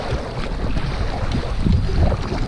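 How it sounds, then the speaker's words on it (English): Strong wind buffets the microphone on a lake while a small fishing boat is paddled, a gusty low-pitched roar with rushing water beneath it, steady and close. "That wind is a lot stronger than I thought it would be."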